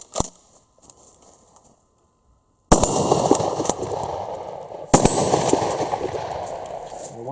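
A Pardus LAX12 shotgun fires 9-pellet double-aught buckshot at steel targets 25 metres away, two loud sharp blasts a couple of seconds apart, each followed by a long rumbling echo, after some quiet handling noises.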